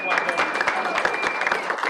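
An audience at a holiday show with a band breaks into dense applause, a short burst of many hands clapping close by with a voice over it.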